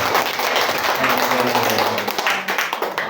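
An audience at a school dissemination session applauds a presenter, a steady patter of clapping close by with voices murmuring underneath, over about three seconds.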